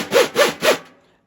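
An upside-down snare drum struck three times in an even rhythm, each hit a broad, rasping burst with a short ringing body, close and fairly loud, fading out after the third stroke.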